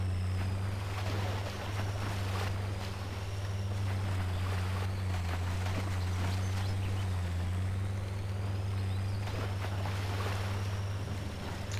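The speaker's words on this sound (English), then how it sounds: "Make a way through this little creek, whichever you want to call it." A Land Cruiser in the MudRunner video game crawls through a creek, its engine holding a steady low drone under a continuous wash of water and splashing, with no talking.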